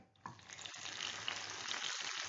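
Boiled lamb brain sizzles in melted ghee in a pan over a high flame, a steady hissing fry that grows slightly louder, with a soft tap near the start and no voices.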